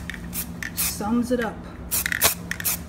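Short hissing bursts from a spray paint can, repeated several times, with a person briefly speaking between sprays.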